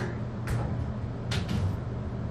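An Otis traction elevator door in a building at 1220 Main, Vancouver, Washington slides shut with a low rumbling roll and a couple of brief thuds and scrapes near the middle, with no voices.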